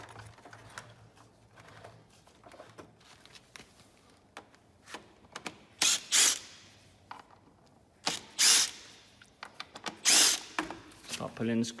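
Screws being driven out of a Festool CS70 table saw with a power driver, in short bursts of whirring and ratcheting between quieter handling clatter of screws and plastic parts.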